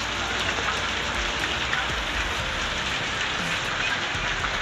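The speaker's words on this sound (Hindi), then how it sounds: "ये देखो कितनी जबरदस्त बारिश पड़ रही है," Heavy rain falls steadily in Lucknow, Uttar Pradesh, during the late-June monsoon, making a dense, even hiss of drops pounding surfaces with no voices.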